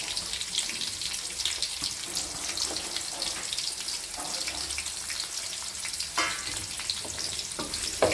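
Sliced onion frying in a pan for a cowpea curry, giving a steady close hiss with a few brief scrapes and bursts of crackle.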